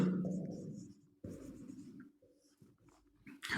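Chalk or marker strokes on a board in a chemistry class, a few separate scratchy bursts of writing with short pauses between them, close and moderately quiet.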